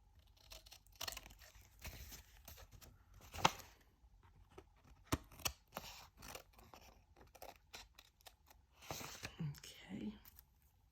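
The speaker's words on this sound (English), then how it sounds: "And now let me just cut off the excess." Scissors snip through excess tracing paper in a series of close, crisp cuts with brief crinkles, while a soft voice murmurs in the background.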